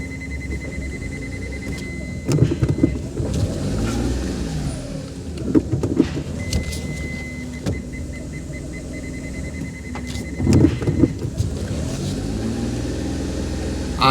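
A car engine idles and hums steadily during a parking and reversing driving lesson, with occasional revs and mechanical shifts and a faint tone in the background.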